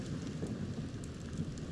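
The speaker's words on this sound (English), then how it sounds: "That's just rain on me." Rain and thunder in the Fortnite video game, a soft, steady wash of rainfall over a low rolling rumble, faint and continuous without voices.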